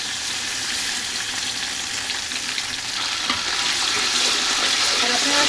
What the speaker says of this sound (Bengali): এখন দিয়ে দিচ্ছি আদা রসুনের পেস্ট